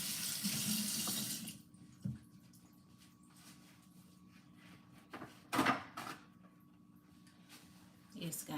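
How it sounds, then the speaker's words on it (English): Hands rinsed under a running kitchen tap, the steady gush close and loud for the first seconds before shutting off, followed by a few brief clunks and knocks at the sink. "the proper thing to do is to wash your hands when you're going to fix your meal"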